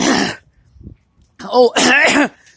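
A voice speaks briefly, then a harsh throat clearing and raspy coughing follow, close and loud.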